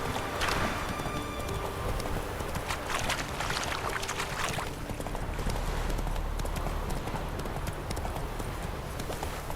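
Roach the horse gallops in The Witcher 3, hooves clip-clopping steadily and loudly over a dense wash of ambient game sound, without pause.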